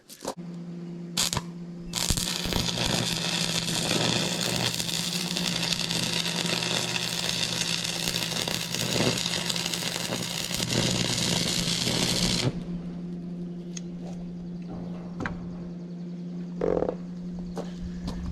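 Tack welding a steel front plate, a loud crackling arc buzz lasting about ten seconds close by, followed by a steady low hum and brief knocks.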